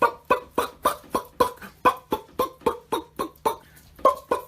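Chickens clucking in a rapid, steady series of sharp clucks, about a dozen in a row at an even rhythm, close and clear over a faint low hum.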